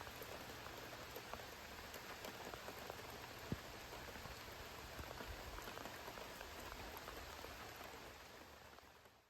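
Steady rain falls on a rainy day at Aspen Ridge, a soft, continuous patter and hiss with occasional distinct drops, fairly quiet and uninterrupted.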